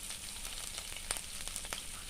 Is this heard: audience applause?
no